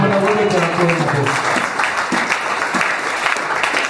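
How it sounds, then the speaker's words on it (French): A church congregation at a Christian service applauds and cheers for Jesus, loud sustained clapping and voices filling the room evenly from start to finish, with a preacher speaking over the applause. "Est-ce que quelqu'un peut acclamer Jésus?"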